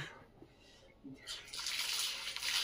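Cold water flows steadily and close by from a water source found on a morning hike up Nandi Hills to watch the sunrise, starting quietly and growing into a strong continuous gush after about a second.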